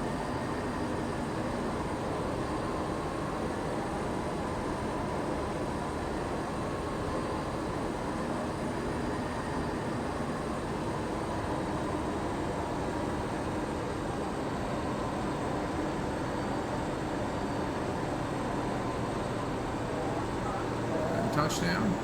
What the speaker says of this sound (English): Very turbulent weather here as we come into land.